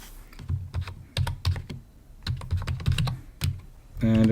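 A computer keyboard clatters as a name and password are entered, with bursts of quick keystrokes separated by short pauses and a faster run of taps at the end, close and clear with no talking.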